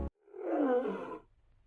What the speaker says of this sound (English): her roar shattering the stillness